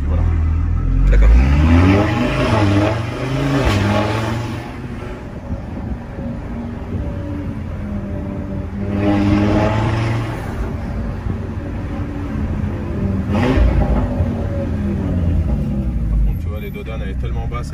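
A tuned car with a valved exhaust revs in several loud surges separated by quieter idling stretches, with wind buffeting the microphone and voices talking over it.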